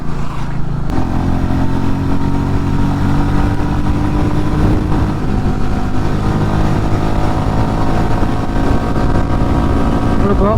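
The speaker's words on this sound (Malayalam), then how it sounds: "ത്രോട്ടിൽ കൊടുക്കുമ്പോൾ തന്നെ വണ്ടി മൂവ് ആവുന്നുണ്ട്." A Royal Enfield Meteor 350 motorcycle pulls away under throttle while being ridden, its engine note loud and close with a steady thrum that rises gradually, mixed with wind rush.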